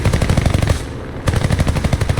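Aircraft machine guns in a War Thunder air battle, likely from an F4U-4B Corsair or Yak-3 dogfight, firing in loud rapid bursts with a brief pause between two sustained volleys.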